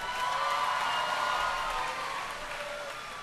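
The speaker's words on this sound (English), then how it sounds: "one more round of applause for our senior class president" Audience applause for the senior class president at a 2014 high school graduation ceremony, a steady wash of clapping across a large hall that holds at an even level and then eases slightly toward the end.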